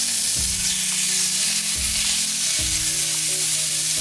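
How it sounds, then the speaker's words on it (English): Duck sizzles and fries in a tablespoon of oil in a cast iron pan over medium heat, a steady close crackling hiss with a few low clunks and shifting tones from the pan, and nobody talking. "Go ahead and put 1 tablespoon of oil and listen to the sizzle."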